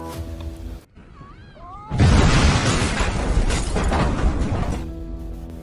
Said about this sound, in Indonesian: saat bersamaan mobil pun meledak